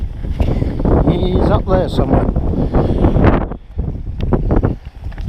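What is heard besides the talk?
strong wind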